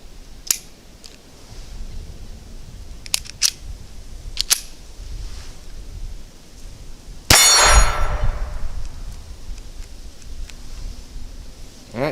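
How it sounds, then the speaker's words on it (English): A Ruger LCP II .22 pistol fires CCI Quiet ammunition: one sharp, fairly subdued crack with a brief tail, among scattered small metallic clicks and handling clatter before and after. "we're gonna shoot some CCI Quiet"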